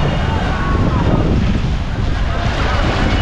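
Waves on the Hooghly river at Diamond Harbour rush steadily and loudly, mixed with heavy wind buffeting the microphone in the open riverside air.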